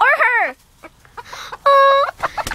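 Chickens in a backyard flock clucking and squawking up close, a loud burst at the start, then scattered calls and a sustained high squawk midway, with several birds heard in short, uneven bursts.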